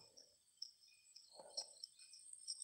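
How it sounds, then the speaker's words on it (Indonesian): High, thin chirps of baby chicks repeating in a steady, faint chatter, with brief low murmurs in between; the setting sounds quiet and close, at night. "ini suara anak ayam cuy"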